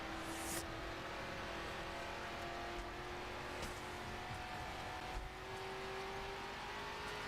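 Race car engine in the racing video game GRID, a steady sustained drone with a rising pitch, continuous and fairly close, with faint tire and track noise underneath.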